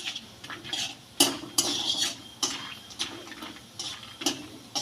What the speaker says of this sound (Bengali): এবার আমি এই তেলের মধ্যে কটা চীনাবাদাম ভেজে নিচ্ছি।